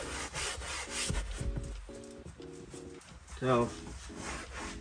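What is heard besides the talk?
scrubbing a car interior during detailing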